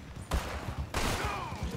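Gunfire in the Western video game Red Dead Online: two sharp, loud shots about half a second apart, the second with a long ringing tail, over a low game background.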